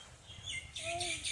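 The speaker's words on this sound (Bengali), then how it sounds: "পাখি কেমন করে ডাকছে" A bird chirps and tweets in short, high, faint calls, growing busier toward the end, while a quiet voice sounds underneath.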